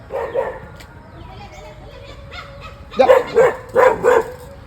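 A house dog at a gate barks several times in quick succession, loud and close, after a quieter stretch with a faint bark and some background voices.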